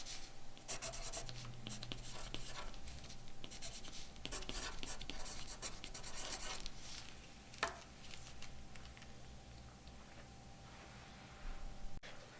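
A pencil writes a name on paper at a classroom table, scratching in short continuous strokes up close against faint room noise and a low hum.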